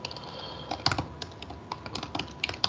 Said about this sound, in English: So let me start typing public class dot public static void main string